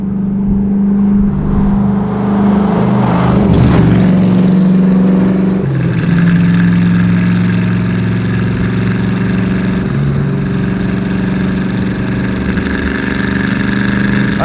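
A De Tomaso Pantera's engine runs from inside the car, a loud close drone with rev changes and a gear shift partway through, no voices heard.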